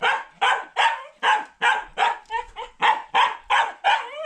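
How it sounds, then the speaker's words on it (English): A dog at an off-grid homestead in Kenya barks about ten times in a steady, evenly spaced run, loud and close, with no talking. "Yeah, my dog needs to go outside."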